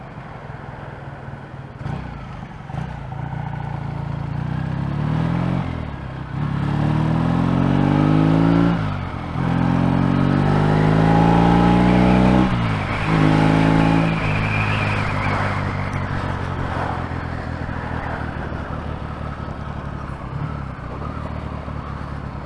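A Triumph T140E motorcycle engine pulls away on a ride, revving up through several gear changes with rising and falling drone, loud and close, then settling into a steady cruising hum with wind noise.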